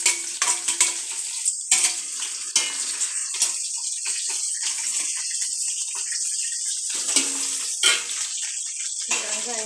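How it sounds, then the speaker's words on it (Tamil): Large onions fry in hot oil. A close, hissing sizzle comes in uneven bursts and crackles, with brief quieter gaps between them. "எண்ணெயில் கொஞ்சம் நல்லா பெரிய வெங்காயம் போட்டுடலாம்."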